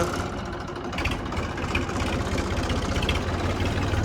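Old DI tractor diesel engine idling nearby, a steady loud throbbing firing rhythm with an even low knock throughout and no voices.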